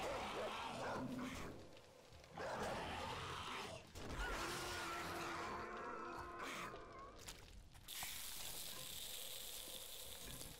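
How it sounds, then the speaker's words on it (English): A zombie dog barks and snarls in the survival video game 7 Days to Die during a horde night. The barking recurs through a dense, noisy mix of game sounds lasting about ten seconds. "Another damn dog."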